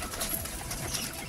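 Pet pigeons, kept as racing flock birds, make soft, low cooing against a steady background murmur, faint and continuous over a brief moment.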